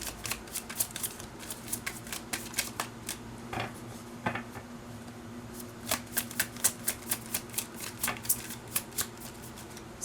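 Tarot cards are shuffled and drawn, making rapid papery riffling flicks in quick bursts with brief pauses, close by and fairly quiet, with no talking.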